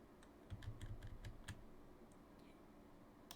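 Quick bursts of computer keyboard keypresses enter shortcuts in Blender, several close, crisp clicks in a short cluster followed by a couple of faint taps.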